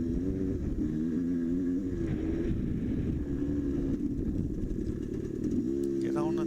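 An enduro dirt bike engine revs steadily in gear on a wooded trail, a loud continuous buzzing drone with a pitch rise near the end, up close and under wind noise.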